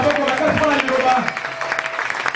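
A church congregation applauds loudly in a steady clatter of clapping, with voices and a tonal sung or spoken line running over it.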